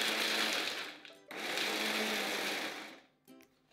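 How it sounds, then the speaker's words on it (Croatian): An electric mixer whirs loudly as it grinds walnuts, running in two continuous bursts separated by a brief pause, then stopping and giving way to faint clicks. "pri ruci nam je već mikser pa onda idemo s njim"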